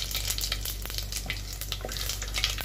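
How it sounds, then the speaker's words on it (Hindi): Garam masala spices frying in hot oil for a chicken korma, a steady close sizzle with soft crackles and light stirring scrapes running throughout. "अब हम ये अके गरम मसाला डाल लेंगे तेल में"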